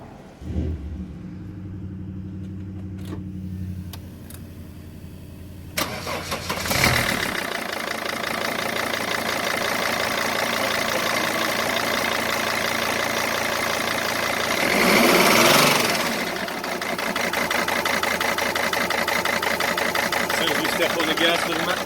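A cold five-cylinder engine cranks and catches with the MAF sensor connected, then runs with a rough, uneven stumbling idle and a swell as the throttle is pressed, loud and close throughout.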